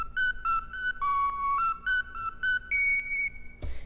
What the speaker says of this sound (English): The same thing with an octave up sounds like this.